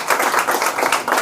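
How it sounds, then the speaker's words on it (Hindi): A crowd claps together at a gathering honoring a young man who passed several government job exams, giving a dense, steady burst of applause that runs unbroken for a moment without voices. "ताली बजाएं।"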